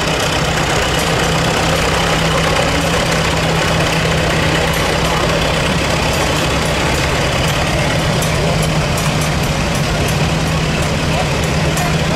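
A John Deere tractor rated at 24 horsepower runs at a steam power show in Sycamore, Illinois, its engine a loud, steady, close rumble that fills the whole stretch without a break.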